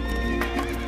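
A horse neighs in one sustained, close whinny that fills the whole short stretch, with the sound loud and steady and no voices present.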